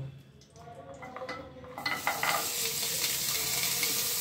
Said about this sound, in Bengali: এই উপকরণগুলো এবার আমি কড়াইতে তেলের মধ্যে দিয়ে দেব।